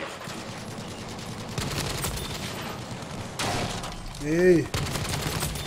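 Double .50 cal machine gun mounted on an LVT amphibious vehicle in Battlefield V, firing in sustained bursts throughout, loud and near, with someone talking over the gunfire.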